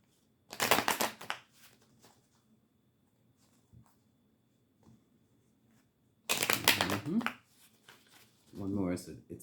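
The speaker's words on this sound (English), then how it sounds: "Shuffle. They were shuffling in clots like a block." A Rider-Waite tarot deck is shuffled in two quick bursts of riffling, crisp card-on-card rustling close by, separated by quiet handling and small taps, with a voice speaking briefly at the end.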